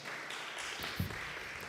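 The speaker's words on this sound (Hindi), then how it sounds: "ज़ोरदार तालियां जी." A church fellowship audience at a Friday meeting applauds, a steady wash of clapping heard at moderate volume from a little distance, with a brief louder knock partway through.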